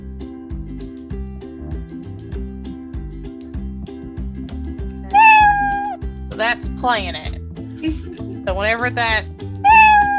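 A cartoon cat meow sound effect plays twice in a Scratch coding project, clear and bright, over a looping background tune while a person talks.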